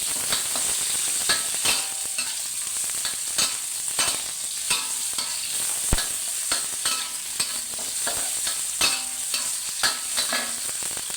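Mushrooms stir-fried in a pan sizzle steadily, with frequent scraping and clacking of a spatula against the pan in an irregular rhythm, close and clear with no talking.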